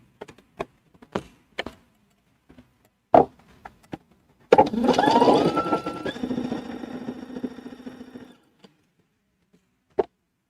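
Sewing machine stitching a T-shirt hem, guided along the presser foot edge. A few scattered taps and clicks lead into a steady mechanical whirr that runs for about four seconds and then stops, followed by a final click.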